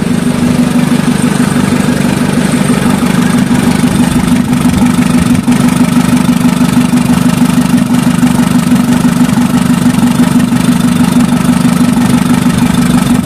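A diesel engine idles steadily at close range, a loud, even low rumble running the whole time with a constant throb and no change in speed, just after injector cleaning.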